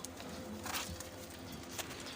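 Soft coos of high-flyer pigeons, including golden pigeons with their young, murmur close by, low and throaty, with a faint rustle and a brief flutter midway.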